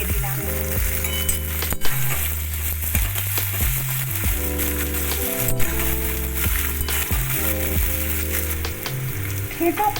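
Chopped onion sizzling steadily in a hot frying pan, a continuous bright crackling fry heard alone, with background music playing underneath.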